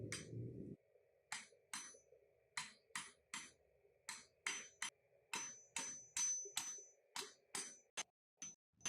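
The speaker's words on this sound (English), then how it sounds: "I started giving them an initial curve with the horn of the anvil" Hammer blows ring out on rebar blacksmith tongs being curved over the anvil horn, a close series of sharp metallic clinks in an uneven but steady rhythm, each with a bright ringing decay, after a short low rumble at the start.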